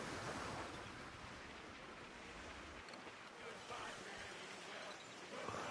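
Ocean waves in the naval video game Skull and Bones, a steady broad wash of surf and wind around a ship that continues loud and unbroken for the whole stretch.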